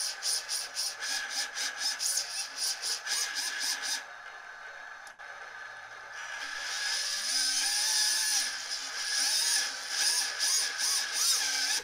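Small drone motors on a desk whine as the throttle goes up and down, a high buzzing hum that rises and falls, briefly drops back, then climbs again, close and steady without talk.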